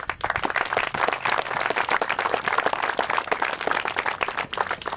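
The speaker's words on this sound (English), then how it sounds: "Ladies and gentlemen, please give a round of applause." Outdoor audience applause at a soccer field dedication ceremony: a moderate crowd claps steadily and unevenly for several seconds, fairly close, with no voices over it.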